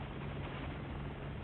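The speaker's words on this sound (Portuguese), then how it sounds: "Nossa, tomando tiro do helicóptero." Helicopter in the video game Resident Evil 6: a steady, dense rotor-and-engine roar, muffled and uniform, with no distinct gunshots standing out.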